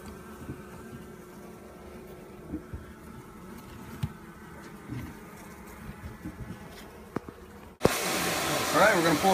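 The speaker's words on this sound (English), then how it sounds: "Well, we have bees." Honey bees nest under the floorboards of a 100-year-old house in Winchester, Kentucky. A faint, steady low buzz hums along for several seconds, then a much louder, harsher burst of buzzing surges in near the end.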